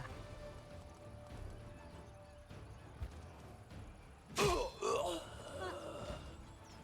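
A horse whinnies loudly and close in Pathfinder: Wrath of the Righteous, a sudden burst over steady game background sound, followed by a shorter second call.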